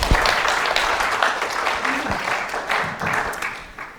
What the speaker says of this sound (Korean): 박수로 환영해 주시면 감사합니다.